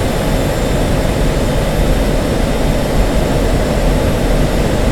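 An F-16C jet engine in the DCS combat flight simulator roars loudly and steadily as the throttle comes up, a dense continuous rumble with a high whine and no talking.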